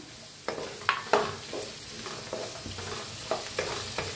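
Finely chopped tomatoes frying with green chillies in a pan, a low steady sizzle with several scraping and tapping stirs of the spoon at uneven intervals, close and quiet.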